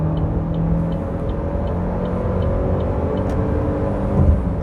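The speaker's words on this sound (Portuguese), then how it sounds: "Vou dar uma acelerada mais profunda." A Chevrolet Cruze Hatch LTZ 1.8 automatic accelerates hard on an open road, heard from inside as a steady low engine rumble and drone with road noise that swells slightly near the end.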